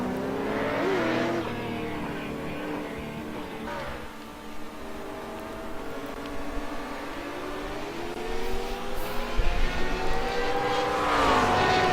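McLaren race car engine revving during a race, its high whine sweeping up and down through gear changes, joined by other cars passing, steady and fairly loud without talk.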